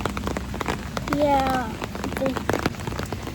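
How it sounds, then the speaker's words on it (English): Light, cold rain patters steadily on the ground during a walk outdoors in Canada, with a brief voice in the foreground. "Normal rain."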